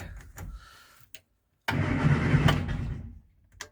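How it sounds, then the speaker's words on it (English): A Morris Minor's starter motor cranks the engine in a loud, close burst of about a second and a half, set between short clicks and mechanical knocks, with no speech. "Starter turns as well."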